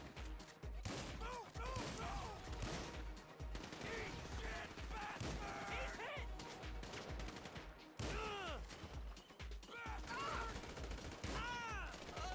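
Dense gunfire in GTA V, rapid bursts and volleys of shots overlapping in fast succession, with some higher chirping game effects mixed in and no clear talk.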